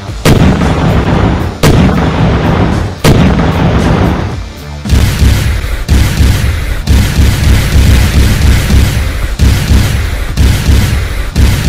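Cartoon army missile launches and explosions in a King Kong battle: a rapid series of loud booming blasts and bursts, repeated heavy impacts across the whole stretch with no talking.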